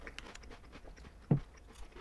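Someone bites into a crunchy Italian tarali snack with a single close crunch, then chews softly and faintly in a quiet room.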